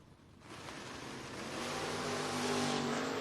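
A door-car drag race between a Mustang and a '77 Camaro: engines roar and build steadily from fairly distant to loud, sustained full-throttle noise.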